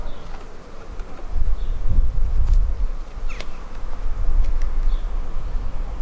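A low, droning hum of many honeybees buzzing close by at a hive, steady and continuous, with occasional faint ticks and a few brief higher whines.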